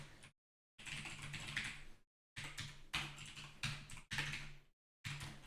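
Fingers tap steadily on a computer keyboard in several quick bursts separated by short silent pauses, crisp and close with no talking.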